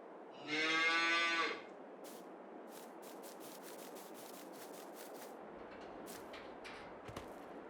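A single long, loud cow moo rings out near the start in Farming Simulator 22, followed by a soft hiss of ambience and a series of faint clicks and taps.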